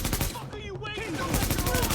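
Rapid gunfire from a weapon in the video game The Division, a dense run of shots through the whole moment with voices talking over it.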